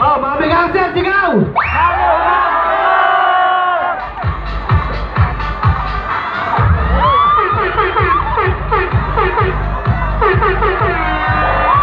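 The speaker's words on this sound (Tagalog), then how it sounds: "Oh, Mami Gangster, sigaw!" A large crowd in Cavite City yells and cheers loudly after a voice calls out to them, the shouting swelling in rhythmic bursts.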